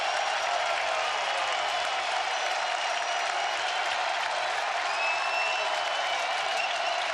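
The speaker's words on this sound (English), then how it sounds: "The crowd comes to its feet for the first time with the offense instead of Horn on the mound." Crowd at a college baseball game between Ole Miss and Nebraska rising to its feet, cheering and applauding in a steady, dense roar that holds evenly throughout, with no clear voices standing out.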